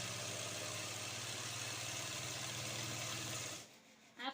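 A sewing machine stitches lehenga fabric in a fast, even mechanical hum close by, running steadily before stopping abruptly near the end.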